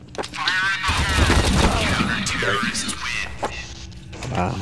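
Gunfire in Counter-Strike: Source crackles in dense, overlapping bursts through most of the moment, loud and close, with players' voices talking over the shooting.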